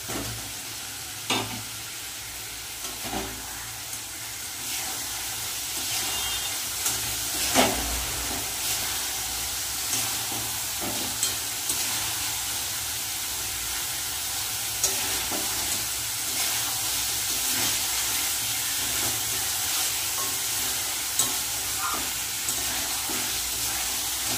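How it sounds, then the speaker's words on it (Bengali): Ilish fish frying in spice paste in a pan, a steady close sizzle with scattered stirring scrapes and soft clicks running through, no voices. "মশলার সাথে মাছগুলো দিয়ে কষিয়ে দেবো।"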